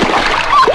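A short splash sounds as a person dips into the cold water of the Ganga, close and loud, with a brief voiced sound near the end.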